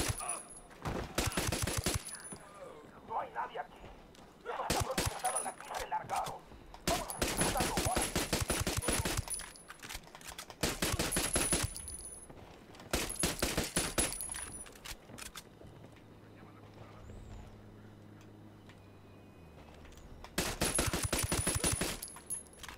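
Bursts of automatic gunfire from the Ghost Recon Wildlands video game come in several loud, sustained volleys separated by short pauses, with a brief quieter stretch of low rumble in between.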